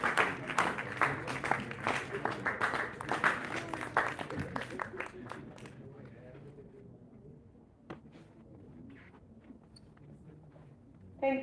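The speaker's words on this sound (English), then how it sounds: "Can we have a big round of applause?" Applause from a conference audience on technical textiles and sustainability: dense, steady clapping for about six seconds that then thins out and fades into a quiet room with scattered small noises.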